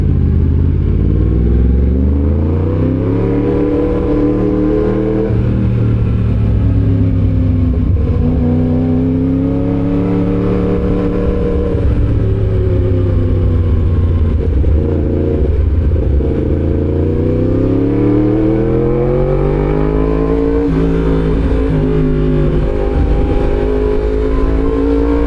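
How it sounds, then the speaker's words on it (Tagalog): Steady engine drone fills the clip, recorded from a moving vehicle on a Philippine road in traffic, with rising and falling revs of nearby cars and motorcycles under constant wind and road noise, and no talking. "Traffic."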